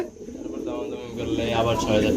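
A pair of pigeons on a pigeon farm coo nearby in low, steady murmurs that grow slightly louder, mixed with a faint voice in the background.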